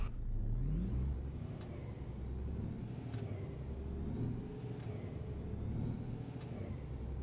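Truck engine labouring in On The Road Truck Simulator on a drive toward Dortmund with a low fuel gauge, a steady deep droning rumble with periodic faint clicks and a brief rising whine at the start, no talking.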